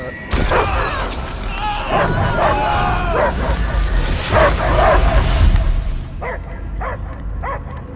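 A dog barks and yelps repeatedly in Marvel's Guardians of the Galaxy video game over a dense, noisy background, followed by a few sharper, isolated barks near the end.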